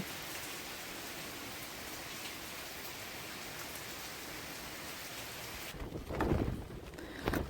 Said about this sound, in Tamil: இன்றைக்கு வந்து கொஞ்சம் வித்தியாசமாக கொஞ்சம் பலத்த காற்றாக இருக்கிறது